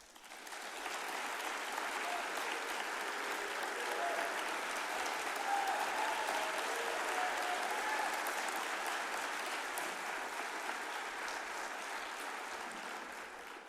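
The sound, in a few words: applause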